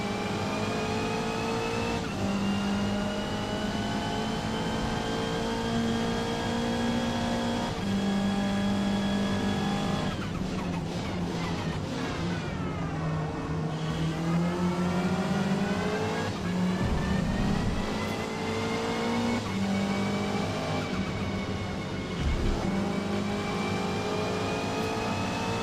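Race cars in Forza Motorsport accelerate hard through gear changes, the engine note climbing and dropping repeatedly as cars jostle to overtake, with other cars passing close and brief tire scrubs mixed into a continuous loud engine roar.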